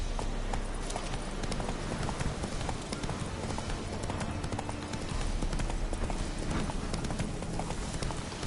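Hooves of the horse Roach pound in a fast, steady galloping rhythm in The Witcher 3, close and continuous over a busy game soundscape.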